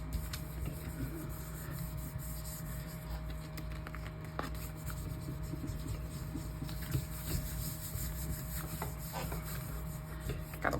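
Paper being rubbed by hand onto a Gelli printing plate, a soft continuous scuffing and rasping that runs steadily throughout at close range, with occasional light taps and no talking.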